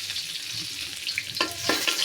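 Garlic sizzles in hot oil with gram flour in a wok as the base for a pigeon meat curry. A steady frying hiss runs throughout, with a couple of short crackling bursts near the end.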